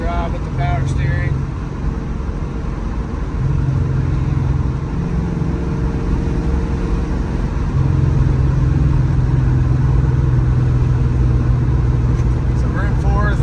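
A 1971 Ford Mustang Mach 1 with a 351 M-code V8 and four-speed manual, driving steadily with a loud, continuous engine drone that rises and shifts in pitch as it changes gear, and a voice talks over it.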